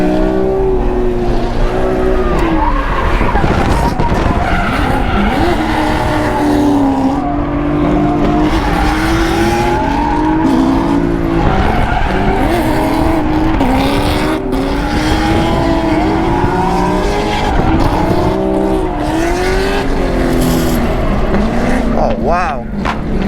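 A BMW F80 drifts with its engine roaring and tires squealing, wavering pitches rising and falling as it swings from angle to angle, loud and close, with voices talking over it.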